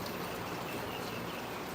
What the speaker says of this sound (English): Look guys, it's raining,